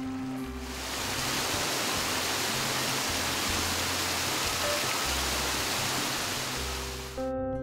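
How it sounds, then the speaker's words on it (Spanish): Water rushing out of a cave mouth into a river in a natural spring setting, a steady broadband roar of flowing water, continuous and fairly close, with no voices. "El rumor del agua al salir de la cueva nos recibirá con una sensación de pureza y frescor"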